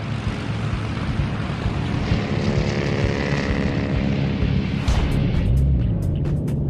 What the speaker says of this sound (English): A wave of bombers from both Enterprise and USS Franklin buzzes in, determined to put Musashi beneath the waves.